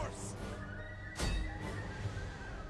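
A horse neighs in a battle strategy video game, a sharp whinny cutting in midway over ongoing game sounds and background ambience.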